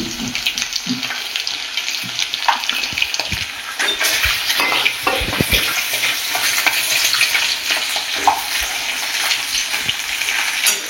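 Dry red chillies and panch phoron hit hot fish oil in a pan, crackling and sizzling loudly up close, with busy stirring and scraping throughout.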